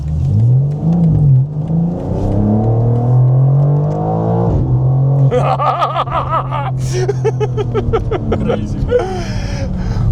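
A car at speed on a race track, a BMW M3 or M4, rises in pitch as it approaches and sweeps past nearby, with engine harmonics climbing sharply; people talk and laugh over it before it passes.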